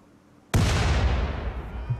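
A bomb explodes in the video game RimWorld: one sudden loud blast that starts after a quiet moment, then a long rumbling tail that slowly fades.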